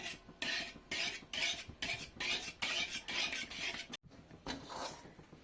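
A spoon rasps and scrapes rhythmically through a thickening semolina and milk dough in a pan, with steady strokes about twice a second and a short pause near the end.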